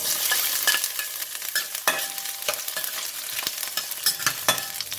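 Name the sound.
garlic frying in hot oil in a pan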